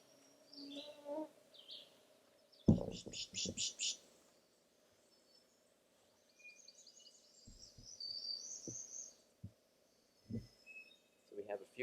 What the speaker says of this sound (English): So we have a few birds here at this stop.